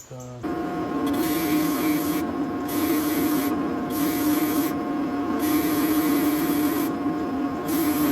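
A rotating abrasive disc flattens a wooden segmented bowl ring, giving a loud, steady whirring hiss with a constant motor tone, as sanding contact swells and eases in repeated intervals.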